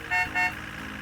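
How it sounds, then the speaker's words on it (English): In a cartoon, two short, bright bus horn honks in quick succession, loud and close, over a low idling engine. "Bobby's horn is very loud. He can sound his horn in an emergency"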